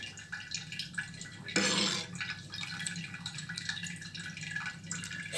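Whey from homemade cheese drips and trickles steadily as the curds strain, with a brief louder gush partway through and a constant close, wet patter.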